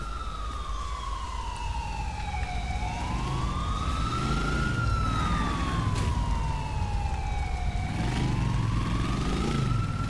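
Police sirens in Grand Theft Auto IV wail continuously and loudly in slow rising and falling sweeps, staying close throughout over a low engine rumble, with no talk.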